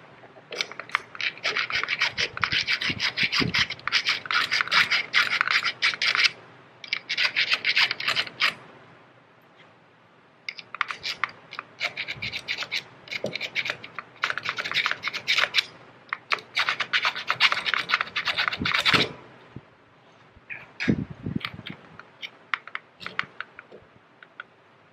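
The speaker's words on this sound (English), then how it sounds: "Just file that little burr off real quick because these aren't going in right now." A small square file rasps a burr off a metal part in quick back-and-forth strokes, a dry scratchy rhythm in several bursts with brief pauses, close up and with no voices.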